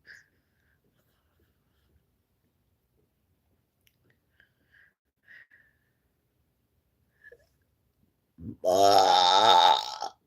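After near silence with a few faint ticks, one loud, drawn-out burp comes up close near the end.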